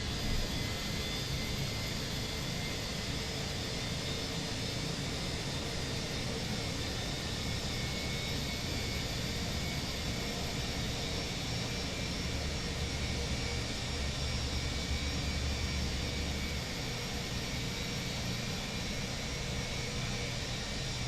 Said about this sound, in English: So engine 2 start is progressing nicely.